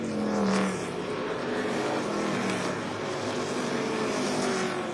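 ARCA Menards East race cars run at Flat Rock during the Dutch Boy 150, engines droning at a steady mid distance with a brief louder surge near the start, and no talk over the sound.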